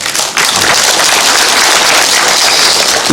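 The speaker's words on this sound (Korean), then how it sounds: "우리 윤종석 이사장님 박수로 경험해 주시기 바랍니다" Sustained audience applause at a citizens' dialogue event with the Jecheon mayor, a dense, steady clapping wash from start to finish with a slight dip near the beginning.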